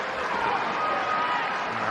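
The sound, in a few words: applause from football fans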